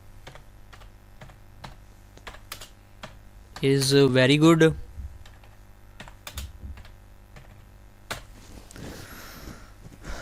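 Keys clatter on a computer keyboard in steady bursts of sharp clicks, interrupted by a short spoken phrase, then the typing resumes.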